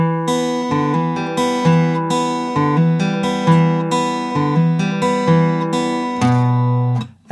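Fingerpicked acoustic guitar playing the intro of a song slowly, evenly plucked notes ringing over one another in a steady rhythm, close and clear with no talking.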